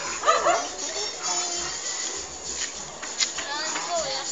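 A dog whimpers with a few thin, high whines mixed into steady background chatter of people talking nearby.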